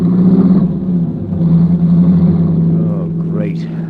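A car engine in an old-time radio drama, droning steadily, then revving and pulling away with a rising whine at the end, loud and close.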